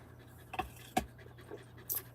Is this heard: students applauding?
no